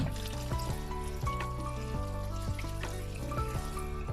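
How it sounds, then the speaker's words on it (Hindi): Cold tap water pouring over drained pasta, a steady trickling stream splashing into the pot, heard close and alone. "अब हम इसके ऊपर ठंडा पानी डालेंगे"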